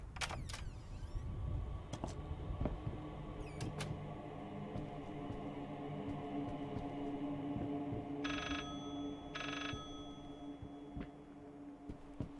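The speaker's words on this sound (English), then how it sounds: "Phone? Telephone on the desk?" A telephone rings in the horror game Layers of Fear, two short bursts of trilling bell well apart, heard over low droning ambience and scattered creaks and clicks, fairly faint.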